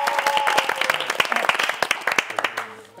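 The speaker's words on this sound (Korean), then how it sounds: "박수로 모시겠습니다." Applause from a studio audience on a Korean televised music competition as a singer is welcomed to the stage, brisk clapping that thins into a few scattered claps and fades at the end.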